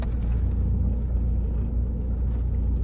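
A Mahindra XUV500 climbing a steep incline in first gear, its engine a constant deep drone heard from inside the cabin, even and unbroken, with no voices.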